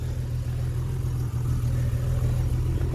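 A BMW M5 Competition engine running close by, a loud steady low rumble that swells slightly toward the end as if building revs, with no talking.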